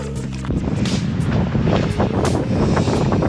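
Strong, steady wind roars and buffets the microphone throughout, a dense continuous rush with occasional gusty thumps and no voices.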